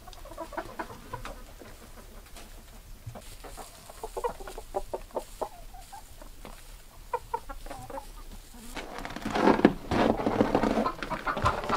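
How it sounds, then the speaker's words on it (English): Flock of 35 chickens clucking and murmuring inside a coop during extreme Alaskan cold, with scattered soft clucks building to a louder, busier burst of fowl calls toward the end. "We have a lot of feeders throughout here because we have 35 chickens."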